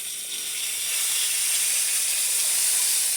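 Pork sears in a hot pan for crockpot pulled pork, fat rendering with a steady, bright hiss and sizzle that swells slightly after the first second and holds continuous, close and fairly loud, with no voices.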